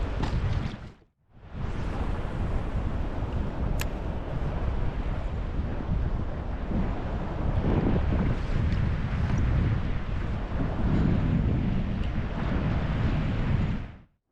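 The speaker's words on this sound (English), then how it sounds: "that wind's picked up a little bit now" Strong wind buffeting the microphone on a UK coastline during inshore bass lure fishing, a steady loud roaring rush that cuts out briefly near the start then continues unbroken before stopping abruptly.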